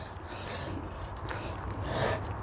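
A Japanese pull saw cutting through a tree trunk outdoors in a botanical garden gives a soft, steady rasping scrape with faint strokes, with no voices over it.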